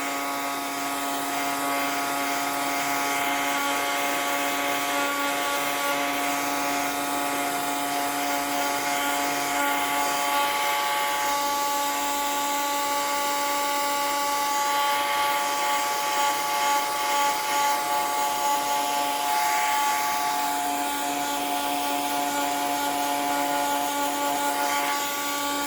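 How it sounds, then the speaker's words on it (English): Heat gun blowing steadily for craft embossing on a journal page, a continuous loud whirring hum with a bright fan whine, running alone for the whole stretch without pause. "Now, I'm gonna emboss this. So I've got my heat gun."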